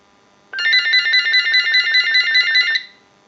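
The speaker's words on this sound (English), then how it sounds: "use the analyzer and send a ring cycle like you were getting a call" A General Electric cordless telephone rings once in a steady electronic trill lasting about two seconds, loud and close, with a rapid pulsing warble before it cuts off.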